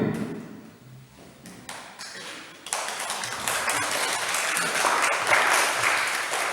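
At a house-church service, children clap for the young readers. A few scattered claps and taps open it, then the group joins in and builds to a fuller, louder round of applause.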